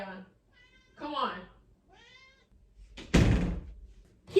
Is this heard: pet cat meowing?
yes